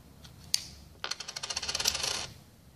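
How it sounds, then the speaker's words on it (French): A 5-cent coin scrapes and clicks against a plastic casing as it pries open the front cover of a pin punch vise, with a few sharp taps and then a quick rattling run of small clicks, close and fairly quiet. "Le mieux pour enlever ou remettre à l'aide d'une pièce de 5 centimes par exemple ou d'un tournevis plat, ouvrir le capot avant."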